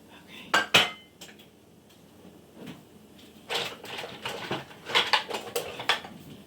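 A metal meat masher scrapes and clanks against a pan as it breaks up sausage in a home kitchen. The clatter comes in irregular close bursts with quiet gaps between them.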